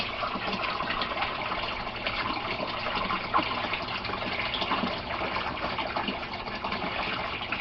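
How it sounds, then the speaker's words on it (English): Water drains steadily from an aquaponics grow bed filled with gravel, a continuous soft trickling and gushing that stays at an even moderate level throughout with no talking. "we have the grow bed draining"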